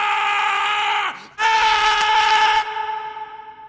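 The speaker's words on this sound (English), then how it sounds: "one of the most chilling screams of agony" A woman in a film scene screams in agony, one long, loud, piercing cry that breaks off briefly and then resumes before trailing off into a fainter tail.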